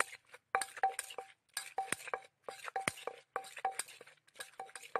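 Hard knocks and clinks repeat irregularly as a pestle pounds in a marble mortar, with scraping between strikes and some quiet gaps.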